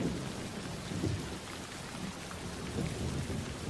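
Heavy rain pouring down at night with thunder, a dense, continuous hiss of rainfall with low rumbling swells of thunder underneath, steady and loud, no voices.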